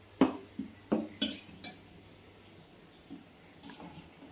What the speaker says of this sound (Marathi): आणि सौख्याचं इथे mixing mixing mixing mixing mixing mixing चालू आहे.